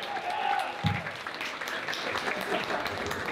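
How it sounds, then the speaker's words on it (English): Applause from a seated crowd at a school sports award dinner, honoring the new boys volleyball team. The clapping is dense and steady throughout, with a few louder claps near the start and faint voices underneath. "Please give another round of applause for the new boys volleyball"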